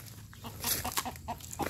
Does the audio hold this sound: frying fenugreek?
no